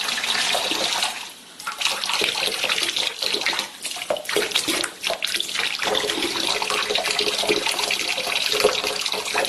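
Tap water pours steadily into a quart container, a continuous close hissing splash with a brief dip in level partway through and otherwise even flow throughout.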